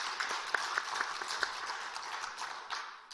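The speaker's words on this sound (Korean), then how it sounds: "우리 다 함께 박수하도록 하겠습니다" A church congregation claps together, a dense wash of hands with a few sharper claps standing out early on, moderately distant and fading slightly at the close.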